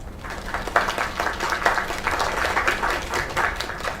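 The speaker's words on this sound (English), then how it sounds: "Another round of applause." An audience claps in a steady, fairly loud round of applause that carries on throughout, with a few voices faintly mixed in.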